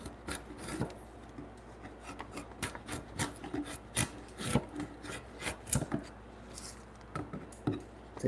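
Framing chisel pushed by hand to pare wood for timber frame joinery, repeated close scraping shaves in short uneven strokes, each a crisp rasp with small pauses between.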